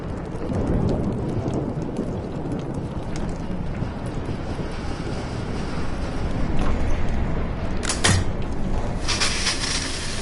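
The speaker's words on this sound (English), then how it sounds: "No more storms." A heavy thunderstorm in the video game Life is Strange: dense, steady rain pours throughout with low rumbling thunder, and a sharp crack near the end, all loud and close with no voices.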